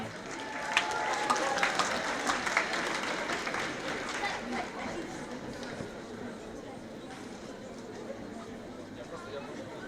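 Concert audience at a Tatar cover band show claps and cheers in a dense wash of applause that peaks early and then slowly thins, with crowd chatter mixed through it.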